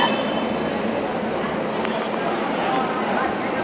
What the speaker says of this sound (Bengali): এই যে এটা হচ্ছে আমাদের আলেপ্পি এক্সপ্রেস ট্রেন।